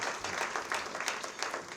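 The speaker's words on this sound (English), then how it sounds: "Please give them a round of applause for that." Applause from a conference audience, a short, fairly quiet patter of many hands clapping, steady and somewhat distant, with no speech over it.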